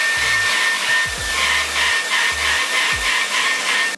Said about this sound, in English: So you're gonna just vacuum it. Just using this crevice tool to get into like all of the quilting divots.